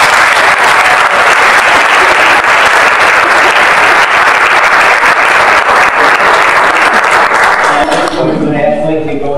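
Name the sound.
audience applause for Mikey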